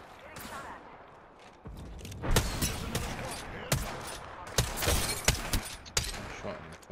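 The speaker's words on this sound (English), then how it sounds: "I'm taking fire." Rapid gunfire bursts from the Apex Legends video game, with sharp cracks and shots layered over continuous battle noise during an intense firefight.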